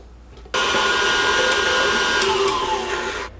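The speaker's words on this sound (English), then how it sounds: "So we're just going to keep whipping just for a couple more minutes and then recheck it." An electric stand mixer whips Swiss meringue buttercream, starting abruptly and holding a steady, loud whirring drone for about three seconds before cutting off.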